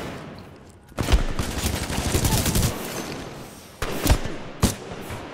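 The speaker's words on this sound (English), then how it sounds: "Who's shooting me with thermite rounds, sir?" Bursts of gunfire with thermite rounds in the video game Titanfall 2, a dense roaring volley for about three seconds, then a pause and a few loud separate shots close by.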